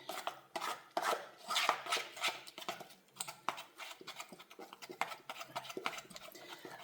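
A utensil scraping and clinking against a bowl while stirring melted white chocolate for lemon-filled sablé cookies, quick irregular taps and scrapes, fairly close but soft, with no talking.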